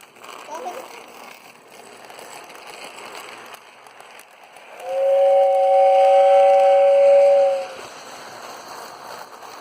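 A Lionel toy train lets out a steady, fairly loud two-tone whistle lasting about two and a half seconds over a quiet room background, with soft rumbling before and after.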